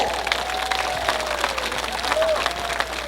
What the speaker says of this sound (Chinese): 我们是不是也用热烈的掌声，谢谢我们所有的5位评审